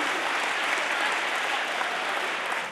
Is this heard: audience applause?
yes